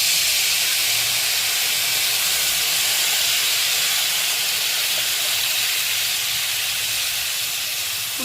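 Tamarind water poured into a hot tempering pan for puli pongal sets off a loud, steady hiss and sizzle that holds broadband and unbroken from start to finish, with no talking.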